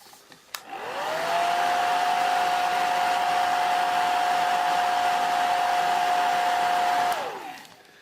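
A hair dryer switches on, blows with a steady loud whirring hum and a constant tone for several seconds, then winds down and shuts off.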